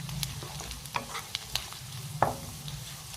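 Mustard seeds splutter and pop in hot oil while tempering for a potato fry, with sparse sharp crackles scattered over a low, steady frying hiss, nearby and fairly quiet.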